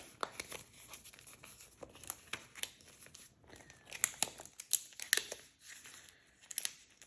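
Paper banknotes being folded for savings envelopes, making close, crisp crinkling and sharp creasing rustles in irregular bursts, with no talking.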